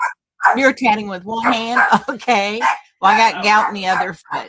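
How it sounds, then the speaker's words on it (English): A pet dog barks and yips close by, in short bursts mixed in with people talking, inside a lived-in rig on a cold day. "That's my dog"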